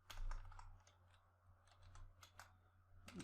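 Computer keyboard typing at a desk while setting up a Node.js server, a run of close, quick key clicks in irregular bursts with short pauses.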